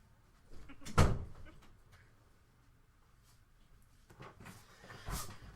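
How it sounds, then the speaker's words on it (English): A door swings shut with a single firm thud near the start, then quieter shuffling and a fainter knock follow in a domestic room, with no talk. "Now I have to get up and close the door."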